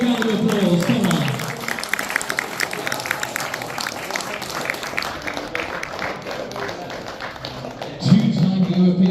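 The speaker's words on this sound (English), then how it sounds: "Give a big round of applause," A crowd at an evening event with a Liverpool football legend breaks into a round of applause, dense clapping filling the room throughout, with a brief louder burst near the end.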